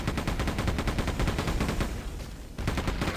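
Rapid repeated weapon fire with recoil in the Quake 2 game, a dense loud run of evenly spaced shots with a brief gap near the end before firing resumes.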